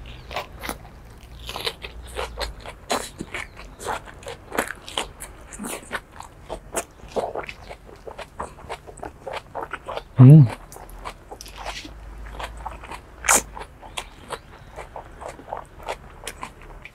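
Crunchy homegrown lettuce and bell pepper in a bowl of bibimbap being chewed close to the mic, a steady run of crisp bites and crackles, with one louder bump partway through and speech nearby.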